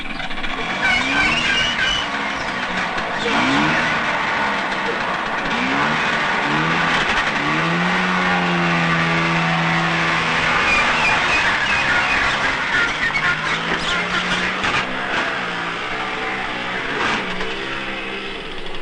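A farm truck loaded with string beans, milk cans and a market scale pulls away, its engine revving loudly and rising through the gears. The engine noise is continuous and close, with no talk.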